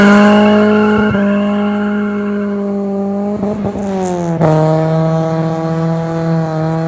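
A car fitted with a full stainless exhaust accelerates hard with a loud, raspy engine note that climbs and breaks as the clutch slips, dropping and surging again in a couple of bursts.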